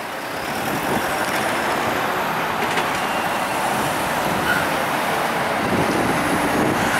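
Steady traffic rumble with trucks and cars squeezing along the narrow streets of Bastogne's downtown square in Belgium, a continuous, fairly loud roadway wash with low engine drone and no talk.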